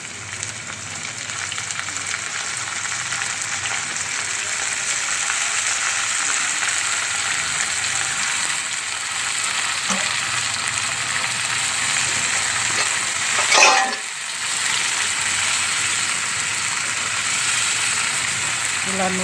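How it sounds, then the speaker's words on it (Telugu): Soaked and rinsed dried prawns frying in oil, a steady close sizzle with a sudden flare of crackling partway through as they are stirred, with no talking. "ఇలా ఆ ఎండు రొయ్యలను నీళ్ళల్లో నానబెట్టిన దాన్ని ఇలా తీసి కడుగుకొని ఇప్పుడు నూనెలో వేసుకోవాలి"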